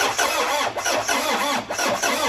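A car with an old, weak seven-year-old battery cranks over and over, the starter churning in a steady labouring rhythm that never catches, loud and close.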